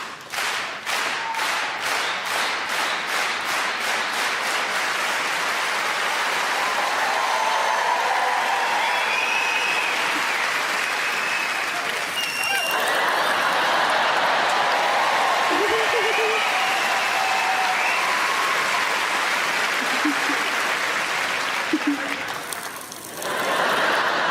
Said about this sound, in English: can we do clap, clap, clap?